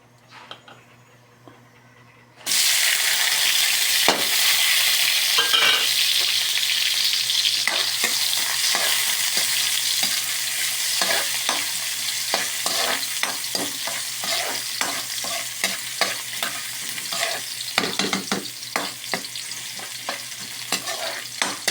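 Pancit stir-fried in hot cooking oil in a home kitchen, a loud steady sizzle that starts abruptly and continues with frequent scraping clatter of stirring throughout.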